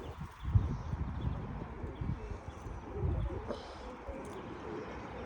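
Pigeons coo softly and faintly at a distance against low rustling background noise.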